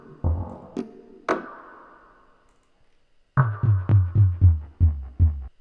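Percussion one-shots from XLN Audio Life, sequenced in Ableton, give a few sparse low knocks, a pause, then a quick run of about eight thumpy hits with no talking.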